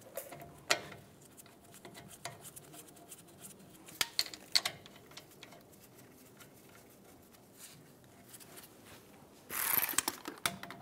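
Brake caliper bolts being threaded in by hand on a 2007-2013 Chevy Silverado 1500 front brake job, with faint scattered metallic clicks and taps, a few sharper knocks, and a brief louder ratcheting burst near the end.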